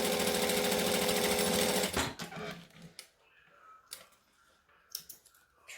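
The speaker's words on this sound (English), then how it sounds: "I'm going to just stitch this right at the edge, just to kind of hold it all together." Sewing machine stitching along zipper tape, a fast steady mechanical whir for about two seconds, then stopping, followed by quiet clicks and handling noises.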